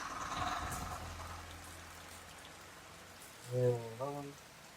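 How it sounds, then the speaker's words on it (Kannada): Rain falls on a houseboat in the Alappuzha backwaters as a soft, faint, even patter, with a brief tonal voice-like sound rising near the end. "ಮಳೆ ನೆನ್ಕೊಂಡಿದ್ದೀನಿ ನಾನು"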